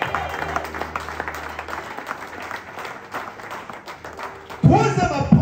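A church congregation breaks into applause for Jesus near the end, a sudden loud patter of many hands following a preacher's amplified voice.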